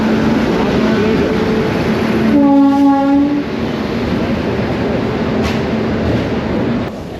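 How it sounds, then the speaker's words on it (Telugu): A train pulling into an Indian railway station sounds a loud horn blast of about a second over a continuous rolling rumble, which then carries on steadily nearby. "వెయిట్ చేస్తున్న ట్రైన్ వస్తుంది."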